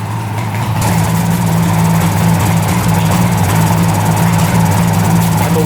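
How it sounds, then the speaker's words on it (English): A 1975 two-stroke triple motorcycle engine, run again after sitting for 40 years, idles close and loud with a steady, even drone that holds for the whole stretch, with no voices. "Let's see if it's running on all the cylinders."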